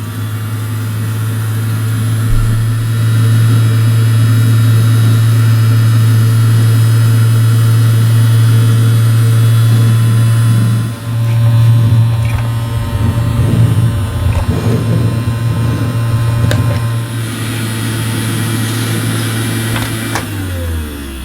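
Klein Electrolux Silent Performer toy vacuum cleaner running with only the hose end attached on a hard floor, a loud steady motor hum with a brief dip midway, continuous and unaccompanied by talk.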